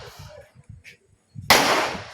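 A firecracker goes off suddenly as a loud sharp burst that fades into a crackling hiss, following a short stretch of low murmuring voices.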